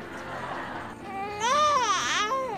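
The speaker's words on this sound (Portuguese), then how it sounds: "A primeira palavra é né, e essa palavra quer dizer fome." An infant cries a rising and falling wail with a whimpering 'neh'-like tone said to signal hunger, loud and close, carried over steady background noise.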